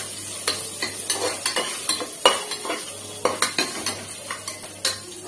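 A spatula stirs and mixes a spicy side dish in a frying pan over a faint sizzle, with steady scraping strokes repeating roughly every half second, close and fairly loud, with no voices.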